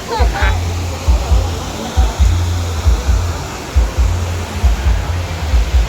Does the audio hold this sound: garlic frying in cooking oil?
no